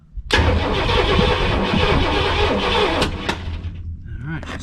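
An RV engine that has sat unused for a year cranks loudly and steadily for about three seconds, a continuous churning drone that then cuts off, leaving a quiet mechanical hum.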